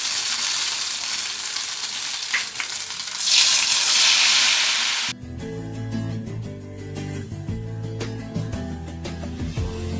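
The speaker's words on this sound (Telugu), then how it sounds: "ఇప్పుడు దీన్ని వేగనివ్వాలి" Ghevar batter poured bit by bit into hot oil, frying with a loud, steady, close sizzle that hisses brightly at first, then settles into a busier crackling fry with scattered pops.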